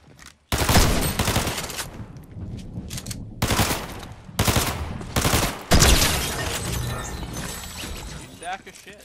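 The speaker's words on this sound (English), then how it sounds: "I see you're shooting at me now." Rapid bursts of video game gunfire crack out in several loud volleys over about nine seconds, close and harsh, with short gaps between bursts and a voice talking over the shooting.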